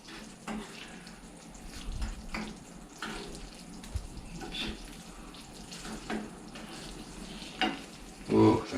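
Bananas for New Orleans-style Bananas Foster fry in a pan, a soft close sizzle with scrapes and shuffles as the slices are turned over, no talking.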